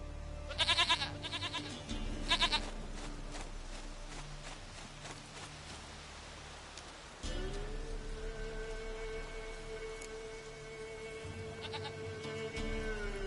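A goat in The Witcher 3 gives a few short, nasal bleats, two close together early on and another pair near the end, over a steady hiss like rain and a low droning hum.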